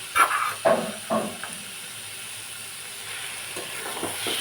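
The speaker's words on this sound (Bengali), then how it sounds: "এটা দিয়ে ভালোভাবে নাড়িয়ে চাড়িয়ে নামিয়ে নেব" Carrot halwa with soaked raisins stirred in a pan: a few close scraping stir strokes at the start over a soft sizzle, fading into a faint steady hiss with occasional light stirs.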